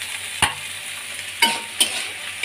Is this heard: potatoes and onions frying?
yes